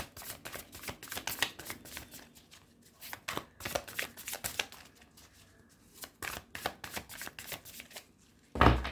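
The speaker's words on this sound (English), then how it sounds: "Let me just shuffle your cards." Tarot cards are shuffled by hand in repeated riffling bursts, close and crisp, pausing briefly between rounds, ending with a sharp thump.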